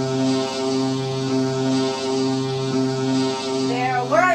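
A steady, sustained low tonal drone with a faint periodic swell runs throughout, fitting a foghorn sounding in a staged dramatic reading, with a brief higher warbling sound near the end.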